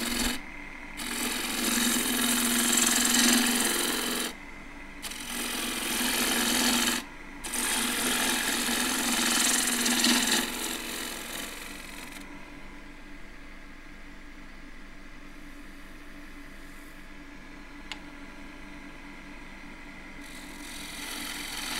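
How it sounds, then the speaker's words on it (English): Half-inch spindle gouge taking pulling shear cuts on a thin ash bowl spinning on a wood lathe, a loud continuous rasping scrape broken by brief pauses, then dropping to a quieter hum of the lathe running. "Use the half inch spindle gouge this time."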